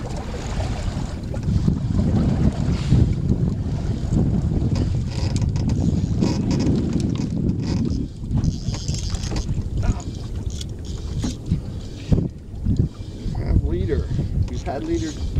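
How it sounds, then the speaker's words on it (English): A large boat trolling motor drones steadily on the water with wind buffeting the microphone, during fly fishing for black drum, while someone talks over it throughout. "One huge trolling motor."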